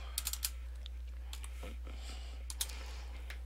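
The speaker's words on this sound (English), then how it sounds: "you go up to your search bar and you're going to type in" Quick, light keystrokes on a computer keyboard as a web address is typed into a browser search bar, coming in small bursts of clicks over a steady low electrical hum.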